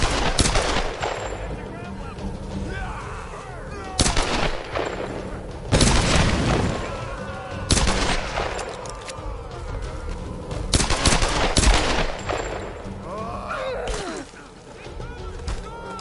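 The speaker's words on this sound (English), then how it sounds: "They're still shooting at her." Soldiers fire guns in Tomb Raider (2013), with repeated loud shots and bursts of automatic fire every couple of seconds, some heavy booms between them, and a voice talking in the quieter gaps.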